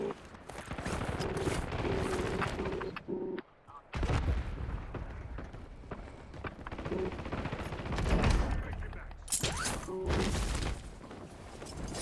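Gunfire in a Call of Duty Warzone battle royale match, dense bursts of shots and booms layered over game noise, with one short drop near the middle before the shooting resumes loud and close.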